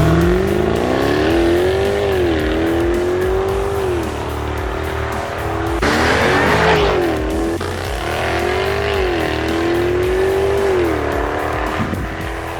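Jaguar F-Type V8 R with all-wheel drive launching hard on tarmac, its loud V8 engine rising in pitch through several gear changes with brief tire noise, continuous and close throughout.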